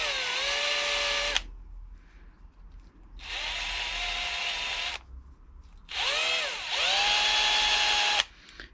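A power drill fitted with a wire brush scours a rusty bolt from the engine bay of a Subaru Impreza STI hatch, whining loudly in three sustained bursts separated by short quiet gaps.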